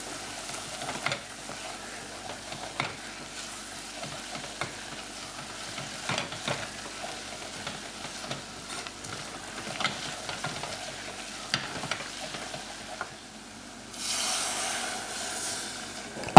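Flour is stirred into onions in a pot for French onion soup. A steady close sizzle runs throughout, broken by repeated scraping strokes of the spoon, and a louder hissing burst rises near the end.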